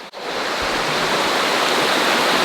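A river flows steadily near a hand-built treehouse at the foot of a volcano, a loud, continuous close-up rush of water that fills the whole clip without pause.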